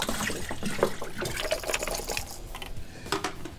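Orange juice poured into a batch of alcoholic hunch punch, a continuous splashing, gurgling liquid stream with uneven glugs and drips, close and fairly loud, with no talk.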